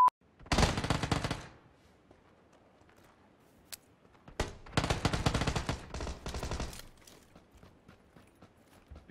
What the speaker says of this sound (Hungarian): Ugye ez gránát volt.